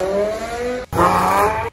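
A car engine revs hard with a rising turbo whine, cutting off briefly before surging again, loud and close.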